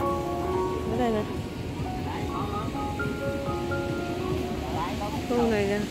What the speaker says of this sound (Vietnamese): Bây giờ là buổi chiều tối rồi. Trời đang mưa lâm râm.